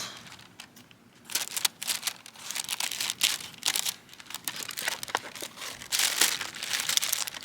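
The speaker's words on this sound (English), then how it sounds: "I'm gonna go ahead and cut the packages open and start planting these bulbs" Plastic packaging of tulip and daffodil bulbs crinkles and crackles as it is cut and pulled open by hand, close-up bursts of rustling with short quiet gaps.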